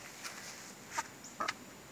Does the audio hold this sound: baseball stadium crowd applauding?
no